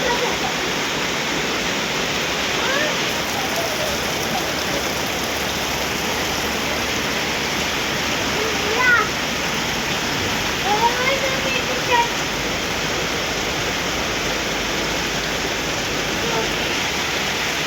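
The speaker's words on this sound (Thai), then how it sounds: "เสียงฝน" Steady, dense rushing noise of heavy rain pouring down, continuous throughout, with a few faint voices briefly audible underneath.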